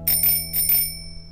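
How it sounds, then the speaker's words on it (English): A bicycle bell rings in four quick, bright, metallic trills, each with a sustained ringing overtone that decays after the last strike, clear and close with no voices. "Then Mr. Monkey tried the bicycle bell."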